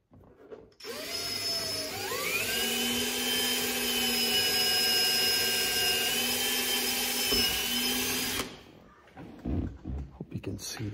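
A power drill pre-drills holes while a door storage bag is fitted to a 2023 Can-Am Maverick Sport Max. The close, loud whine revs up, holds steady for several seconds, then cuts off, leaving faint rustling and handling noises.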